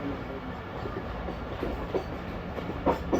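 The Pakistan Express 46 Down runs at a railway station in Pakistan on the Rawalpindi to Abdul Hakim route, with steady rolling wheel clatter and a few sharper clacks near the end, and faint voices in the background.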